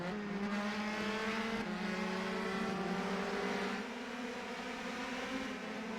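Race cars at the Italian Grand Prix in a racing video game howl at high revs as a pack, with loud, sustained engine whine that shifts pitch slightly as the cars charge down the straight. No voices.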